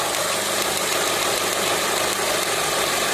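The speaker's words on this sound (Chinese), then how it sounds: "这个声音好像是来自引擎的怪声音" Abnormal noise from a car engine: a constant, rough mechanical hum with faint knocking under it, steady and loud from start to end, no voices.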